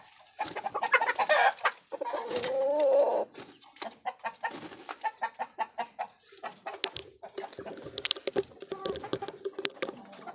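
A bulik hen, a brooding sitter on her eggs, gives a run of soft, rapid clucks close by, some broken and others in quick, rhythmic bursts.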